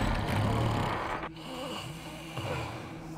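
A guard snoring in a Thief fan mission, with a loud, close, rasping snore, then a brief pause and softer snorts and drawn breaths under a faint ambient background.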